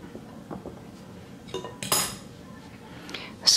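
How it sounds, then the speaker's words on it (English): A wooden spoon stirs apple fritter batter in a bowl, giving soft scraping and a few sharp clinks against the bowl's side, close and fairly loud with no talking. "So I have a wooden spoon and just keep stirring it."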